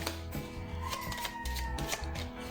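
A pile of playing cards is shuffled for a beginner card trick, giving soft, quick riffling and flicking papery sounds in a short, quiet burst with no speech.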